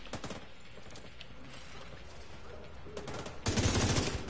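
Sniper rifle gunfire in a video game: a few sharp shots near the start and around three seconds, then a louder, heavier volley at the close.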